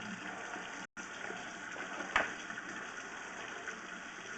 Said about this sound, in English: We're going to turn on the water, because what we want to do is we want to see if it's going to back up.